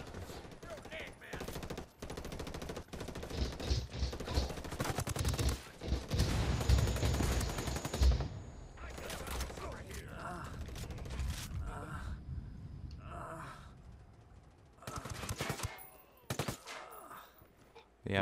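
Enemy gunfire in Ghost Recon Wildlands: bursts of rapid automatic shots and single cracks, loud and close in clusters, then sparse after a quieter stretch, with a faint voice briefly heard.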